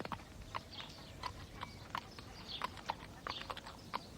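A mare's hooves clip-clop in a steady walking rhythm, crisp repeated knocks, quiet and somewhat distant over faint background noise, with no talk.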